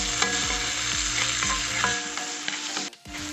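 Onion sizzles in butter in a pan while being stirred, giving a steady close frying hiss. Scraping and stirring strokes recur through it, with no talk.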